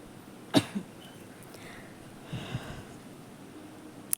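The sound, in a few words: coughing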